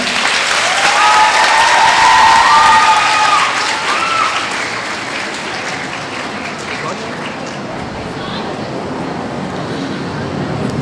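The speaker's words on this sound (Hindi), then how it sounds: "आपकी भरपूर तालियों में" An audience claps to welcome a poet at a mushaira held at a girls' college, loud sustained applause that gradually thins out, with voices murmuring underneath.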